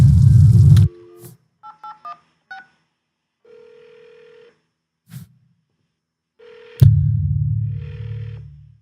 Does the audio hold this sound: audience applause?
no